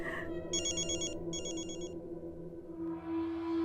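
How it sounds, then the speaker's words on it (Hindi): A phone ringtone chimes in two short electronic bursts of trilling tones, close and clear over a low steady background hum. "मेरा ये फोन लेना जरूरी है"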